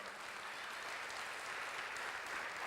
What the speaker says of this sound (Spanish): Ahora sí, dele el aplauso a Dios